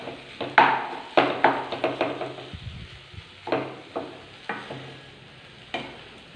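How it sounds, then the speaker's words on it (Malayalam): Sliced plantain banana snack being sautéed in a pan, with a spoon scraping and stirring in a steady series of sharp, close clatters over a faint sizzle. "നമുക്കൊരു ഒരു മിനിറ്റ് കൂടി ഇതൊന്ന് വഴറ്റി കൊടുത്തതിന് ശേഷം നമുക്ക് ഫ്ലെയിം ഓഫ് ചെയ്യാം."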